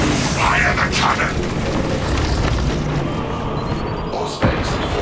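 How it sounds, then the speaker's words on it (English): Heavy booming cannon fire in the shooter Warhammer 40000: Space Marine 2, a thick continuous rumble of blasts and battle noise with a sharp impact near the end, with a voice talking underneath. "Fire the cannon!"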